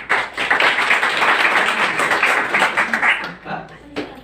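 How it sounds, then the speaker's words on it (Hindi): Audience at a Brahma Kumaris exam-support event clapping in a sustained burst, dense rhythmic claps that thin out near the end, with voices mixed in. "तालियां बजाओ।"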